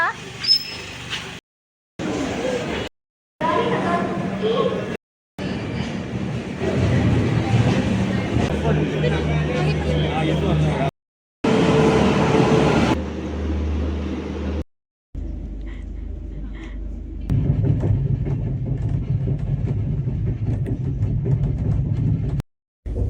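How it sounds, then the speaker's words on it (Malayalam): Steady rumble and clatter of a moving train with muffled voices over it, broken into several segments by short silences. "ട്രെയിനിൻ്റെ ബാക്ക്ഗ്രൗണ്ട് കണ്ടപ്പോൾ മനസ്സിലായല്ലോ ഞാൻ യാത്രയിലാണ്"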